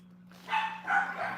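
A dog gives two or three short, muffled barks close by over a low electrical hum.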